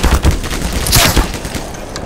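Loud bursts of gunfire from a Black Mesa firefight on PC, a fusillade of sharp overlapping shots with a heavier thud in the middle, sustained for about two seconds.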